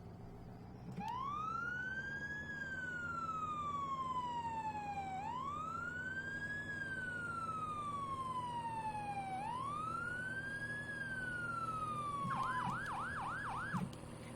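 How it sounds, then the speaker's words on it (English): A fire truck siren wails in repeated slow rising and falling sweeps, loud and close over a steady engine rumble, and ends with a brief rapid yelp. "It is a pretty loud siren"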